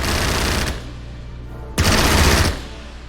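Two loud bursts of rapid automatic gunfire in a World War II strategy game battle over Norway, each roughly a second long, separated by a quieter stretch of lingering battle noise.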